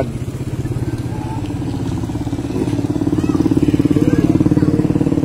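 A motorcycle with a modified exhaust idles close by with a steady, loud, rapid putter that grows slightly stronger toward the end, with no talking over it.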